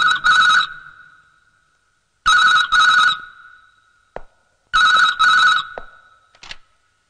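Telephone ringing in a Hindi film scene: three double-ring electronic bell bursts with pauses between them, close and clear, no speech.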